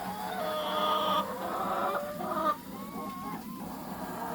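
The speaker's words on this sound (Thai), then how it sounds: "คุณไก่คะมองปลาเหรอคะคุณไก่" A chicken clucks several times at close range, its short, throaty calls carrying over a steady outdoor background.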